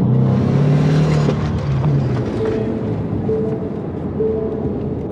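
Gas-engined car running on diesel fuel accelerating hard, a loud close engine drone with low strained harmonics that eases slightly as it pulls, heard from inside the car with no talking.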